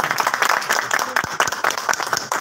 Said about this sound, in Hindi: एक दफा फिर जोरदार तालियां जी।